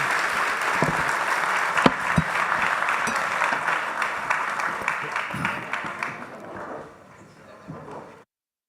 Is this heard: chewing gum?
no